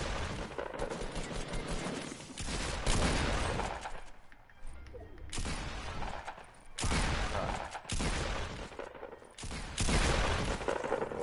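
Bursts of automatic gunfire from a Fortnite-style video game crackle loudly in several separate volleys with short pauses between them, and no one speaks over the shooting.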